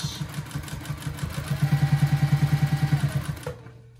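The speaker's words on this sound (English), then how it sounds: "So I'm going to back stitch." A sewing machine back stitching the seam of a fabric bowl cozy runs in a fast, even pulse of stitches for a few seconds and then stops abruptly, with no talking.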